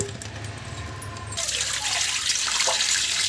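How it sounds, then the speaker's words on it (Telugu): Cold water is poured over freshly boiled vermicelli and drained, starting as a low trickle and then a loud, close, continuous splashing rush. "సేమియాని ఉడికించిన వెంటనే ఇలా చల్ల నీళ్ళు పోసేసి ఇలా వడగోసేసుకున్నామంటే"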